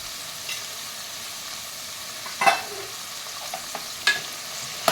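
Dried chillies and curry leaves sauté in a pan while cooking vangi bath, giving a soft, steady sizzle with a few sharp scraping stirs and clicks of a utensil against the pan, close by and without talking.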